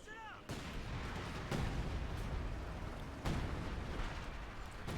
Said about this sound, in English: Artillery called in here by Mr. Nobody's major.